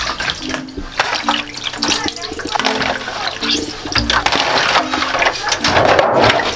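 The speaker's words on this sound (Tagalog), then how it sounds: "So ngayon ay huhugasin muna natin ito ng tubig para mawala ang anik-anik dito sa" Water runs and splashes as cut pork pieces are washed in a basin, a steady rushing stream with sloshing and handling knocks throughout, close and fairly loud.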